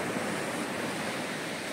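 Sea waves wash onto the shore at Devbag beach in Malvan, a steady broadband rush of surf mixed with some wind, with no voices.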